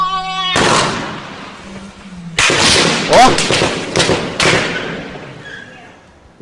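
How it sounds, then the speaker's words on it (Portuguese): Heavy-weapon gunfire during a bank robbery in Capivari, overnight from Saturday to Sunday: about five loud, echoing shots burst out at irregular intervals over several seconds, with a brief voice exclaiming between them. "Isso é tiro de arma pesada."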